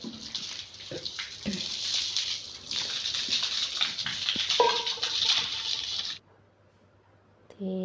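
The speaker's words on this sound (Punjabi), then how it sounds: "ਤੇ ਚਲੋ ਜੇ ਪਾਣੀ ਆਪਾਂ ਭਰਨਾ ਸ਼ੁਰੂ ਕਰਦੇ ਆ" Water being filled outdoors at a rural Punjabi home on a windy, dusty day, a steady broadband rush with scattered knocks and clinks, running continuously before cutting off abruptly near the end.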